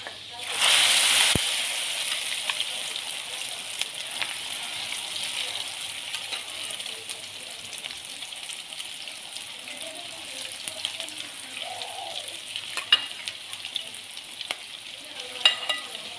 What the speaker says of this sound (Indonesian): Kita masukkan adonannya.